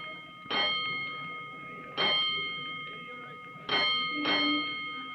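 A firehouse alarm bell strikes four times at uneven intervals, each ring bright and metallic with a long ringing decay.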